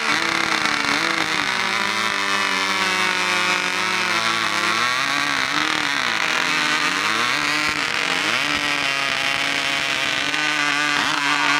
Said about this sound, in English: When I raise my hand in the air, they're going to rev their saws as fast as possible.